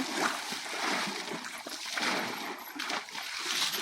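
A child plays in bath water, producing irregular splashes and sloshing bursts close by, with faint background voices at times.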